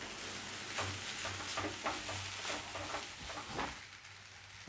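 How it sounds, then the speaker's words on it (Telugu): Egg noodles with vegetables and egg being stirred in a hot pan, a soft steady sizzle with repeated scraping strokes of the spatula at an even rhythm, close and moderately quiet. "వెజ్జీస్ ఎగ్ అన్నీ కలిసేదాకా మంచిగా కలుపుకోవాలి"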